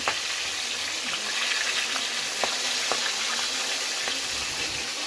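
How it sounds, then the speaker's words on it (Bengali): Fish fries in a pan in an old house turned kitchen on a rainy day, giving an even, dense hiss of hot oil with faint occasional pops throughout. "দেখি কেমন মাছ ভাজা হচ্ছে"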